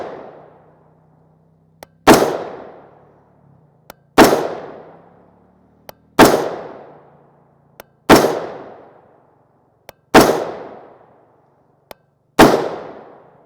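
Rifle shots from a short-barreled rifle firing 5.56x45mm M193 55gr FMJ ammunition ring out six times at roughly two-second intervals, each a sharp crack with a decaying echo, preceded by a faint click.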